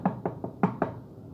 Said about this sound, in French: Il frappa timidement à la porte qui s'ouvrit.